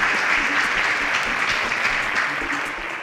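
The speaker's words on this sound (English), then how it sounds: "Round of applause for Chibweze." A classroom gives a round of applause for a student, steady clapping from many hands that fades slightly toward the end.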